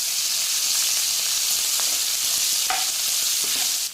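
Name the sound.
chopped onions frying in a pan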